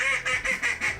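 A handmade duck call blown in four quick rhythmic quacks, loud and close, each a short nasal burst with brief gaps between.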